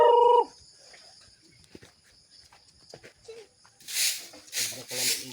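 Chickens, including a rooster, in a rural setting: a short loud call at the start, scattered faint clucks and rustling, then several harsh, noisy squawks close by near the end.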